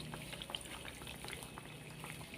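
Hot oil spooned over peanuts frying in a pan for tumpoe, a traditional Acehnese dish, giving a steady close sizzle and bubbling hiss with small splashes, no talk.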